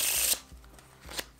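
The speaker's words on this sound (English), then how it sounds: "Then I'll give the cards a nice little shuffle here." A deck of playing cards being shuffled up close: a quick riffle burst at the start, then a few soft taps and flicks as the cards settle.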